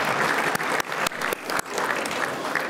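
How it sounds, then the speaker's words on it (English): Audience applause for an award recipient at a Chinese chamber of commerce annual gala, a steady dense wash of many hands clapping with a few brief dips, fairly loud and without talk. "Big round of applause to him."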